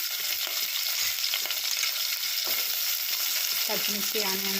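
Green chilli and onion frying in oil with mustard seeds and cumin, a continuous close sizzle and crackle with occasional stirring scrapes, and no one talking.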